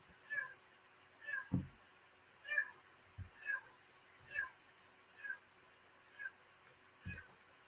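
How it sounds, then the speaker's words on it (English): Cat meowing over and over in a steady series of about eight separate calls, each short, fairly close and clear, with a few soft thumps between them and no talk. "Oh my gosh, this cat's driving me nuts."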